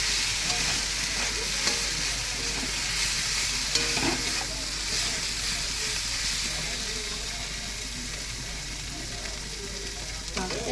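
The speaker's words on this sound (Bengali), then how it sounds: "এই যে এবারে আমি এটা দিয়ে দেবো, দিয়ে ভালো করে নেড়ে নেব।" Fish curry fries in a pan while a spoon stirs it, giving a constant close sizzle and hiss with occasional scraping knocks. A faint voice may come through now and then.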